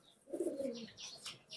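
Domestic pigeons at a pigeon keeper's loft in Gabtoli give a low, warm coo lasting under a second, with faint bird chirps above.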